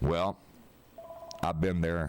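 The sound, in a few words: telephone ringing during radio show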